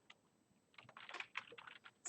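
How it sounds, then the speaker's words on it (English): Soft, quick keystroke clicks on a computer keyboard come in a brief irregular burst, faint and close, with no talking. "that's why you'll see me typing stuff in the chat"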